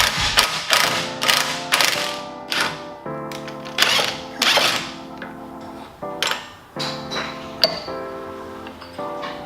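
An impact gun presses an old front lower ball joint out of the suspension of a Nissan 350Z or Infiniti G35, giving repeated loud hammering bursts in an irregular rhythm, close up with no talk.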